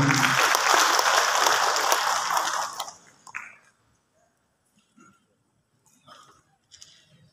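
An indoor audience claps to welcome a speaker at a pre-election national forum in North Sumatra. Dense, loud applause runs for about three seconds, then fades out, leaving near silence broken by a few faint shuffles and scattered sounds.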